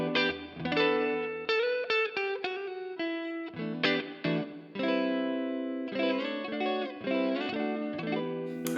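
An electric guitar plays through Overloud vintage amp simulation in FET mode with a slight boost, giving a thick, clear chorded and single-note phrase with sustained notes and light effects, loud and alone.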